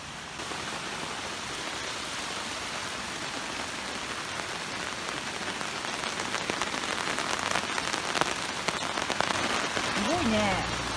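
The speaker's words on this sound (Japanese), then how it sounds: "ポツポツポツポツポツってなんか降ってるような音がするよ。" Steady rain patters on surfaces at a campsite during wood-stove and campfire cooking, a dense continuous hiss of drops that grows slightly louder toward the end, with faint voices underneath.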